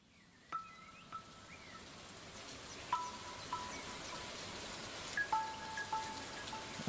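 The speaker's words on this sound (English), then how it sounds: "Stardew Valley tracks with rain ambience." Soft, steady rain patter forms a quiet ambient bed, with a few sparse, gentle melodic notes from calm Stardew Valley game music rising faintly above it.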